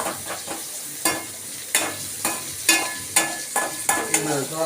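Mustard seeds and onion fry in hot oil in a pan, a close sizzle broken by regular scraping stirs about every half second, with no talking.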